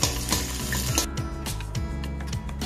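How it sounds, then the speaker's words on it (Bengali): Whole garlic cloves fry in a pan with a steady, close sizzle and crackle, stirred now and then, with no talking. "এবার রসুনটা একটু হালকা ভাজা ভাজা হয়ে গেলে"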